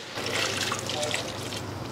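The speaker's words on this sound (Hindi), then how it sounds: "गरम पानी" Hot water poured into a pot of oil-free chicken curry, a brief steady trickling splash at close range with no voices.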